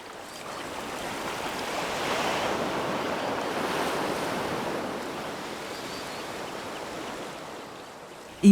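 Sea water rushes in over a tidal flat with a broad, steady wash of surf, blended with wind noise that swells and eases slightly, and ends in a brief knock.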